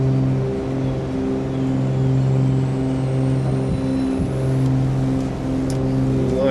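A twin-engine Cessna 310R in Microsoft Flight Simulator drones with a steady, loud engine hum that holds a constant pitch throughout, accompanied by faint clicks and no speech.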